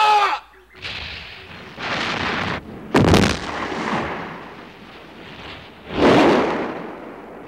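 A volley of gunfire and artillery blasts in a Korean historical TV drama battle scene: several loud, booming shots in bursts with rumbling tails, one at the start, another around the middle and a heavy one near the end.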